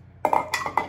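A whisk clinks against a bowl while butter is beaten with maple sugar, four quick bright metallic taps within a second.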